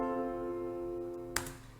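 Three-note synth chord from Omnisphere, sustained and steady with a faint percussive hit near the end, quiet and alone.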